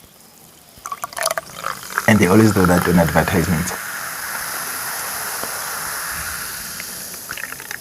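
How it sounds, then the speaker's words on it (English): A fizzy drink fizzes with a steady hiss that continues for several seconds. Someone talks loudly over the start of it, and the fizzing then carries on alone at an even level. "Listen to the fizz."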